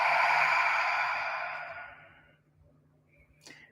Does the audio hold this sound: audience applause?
no